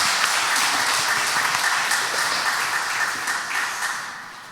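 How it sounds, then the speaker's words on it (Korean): A church congregation at a Sunday worship service applauds together in praise of God, a dense, steady wash of many hands clapping that holds strong and then gradually tapers off at the end, with no voices over it. "하나님 영광 박수 올려드리겠습니다"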